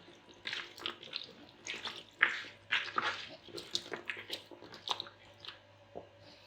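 Chicken feet being rubbed and washed in water, with a steady run of wet squelching, splashing and rubbing noises, close up and fairly quiet, with no talking.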